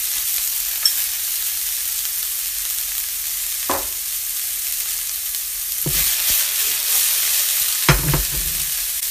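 Chopped celery fries in olive oil with a steady, crackly sizzle throughout, broken by a few louder scraping stirs from a utensil in the pan.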